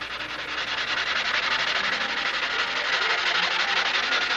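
A bay is hand-sanded with 600-grit sandpaper. A steady, loud, close-up rasping scrape continues without a break and has no talk over it.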